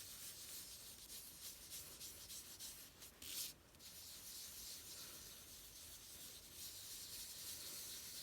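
Cloth rubbing mauve paint onto a surface, layering coats, a steady soft scrubbing texture that runs continuously and close, with one brief louder rasp midway.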